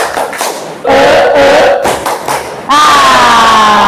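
An audience of teachers claps a rhythmic spirit clap, loud bursts of hand claps with short pauses between them, mixed with scattered crowd voices and a rising cheer.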